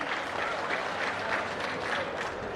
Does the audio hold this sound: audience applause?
yes